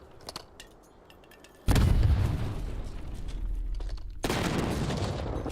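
Two heavy grenade blasts in a Call of Duty match, the first a loud deep boom and the second another burst a few seconds later, each followed by rumbling battle noise.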